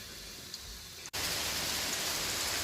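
Heavy monsoon rain pours in a steady hiss, then swells abruptly to a louder, denser downpour after a brief dip, continuing without any voices.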